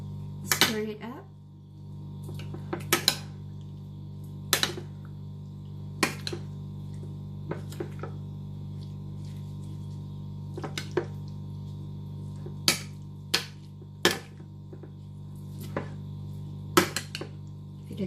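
A spoon stirs salsa on a plate, making sharp, sparse clicks and taps against the dish at irregular intervals over a low steady hum.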